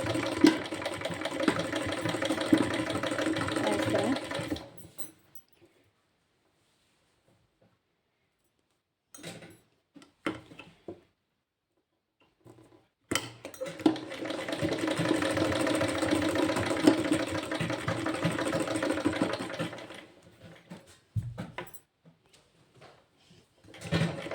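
A sewing machine stitches lace onto fabric in two long bursts of steady, rapid whirring, with a quiet pause between them filled by faint handling clicks.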